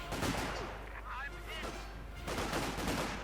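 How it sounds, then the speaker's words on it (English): A 6-pounder anti-tank gun fires in a Company of Heroes 2 battle, with sharp booms and rumbling blasts layered over busy game noise and a steady low background. "6-pounder gun opening up there."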